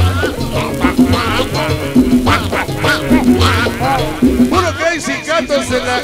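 A Donald Duck-style quacking voice effect rings out repeatedly over loud, steady dance music at a sonidero street party in the La Merced market in Mexico City.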